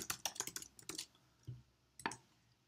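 An email and password are typed on a computer keyboard, giving quick, close, quiet key clicks in a burst, then a pause and a last few taps.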